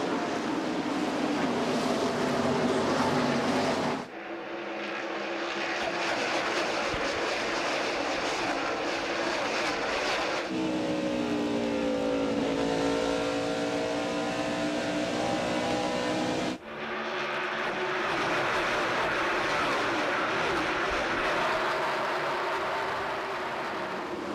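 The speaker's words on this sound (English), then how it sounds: "Green flag is in the air. We are going racing at Rockingham." NASCAR stock cars race at Rockingham in the fall 1999 event at the green flag start. A loud continuous engine roar fills the scene, with pitch sweeps as cars pass and abrupt cuts between shots.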